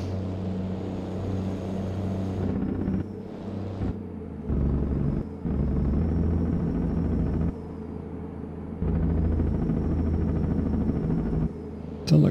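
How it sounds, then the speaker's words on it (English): Helicopter in American Truck Simulator, a steady rotor-like drone in the game that cuts in and out several times, heard over a low truck engine rumble with no talk. "Sound like a helicopter."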